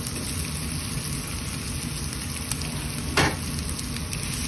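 Corned beef chunks frying in a pan with garlic and onion give a continuous close sizzle, with one short louder spatter partway through; no one speaks.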